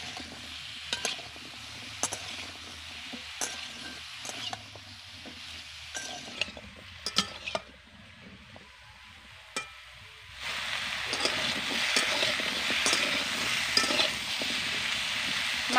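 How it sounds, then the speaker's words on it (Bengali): Raw banana, drumsticks, bitter gourd and eggplant frying for Bengali shukto in a pan, with a soft steady sizzle and occasional stirring scrapes and clinks, growing louder and fuller toward the end. "এবার সব কিছুকে ভালো করে ভেজে নেব।"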